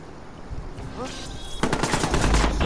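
Gunfire in the Watch Dogs video game: a rapid burst of sharp automatic shots kicks in after a moment of ambient game noise and a brief voice, continuing loud to the end.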